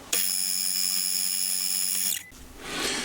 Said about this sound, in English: we're ready to drill this counterbore